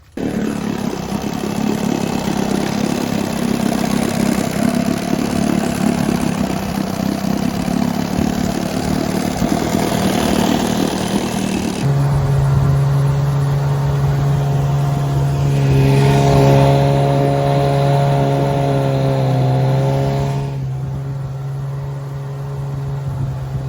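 A 1968 Johnson 9.5 HP outboard motor, fitted with a rebuilt fuel pump, runs steadily and loudly throughout, its tone settling into a lower, even drone partway through with shifting harmonics as the throttle changes.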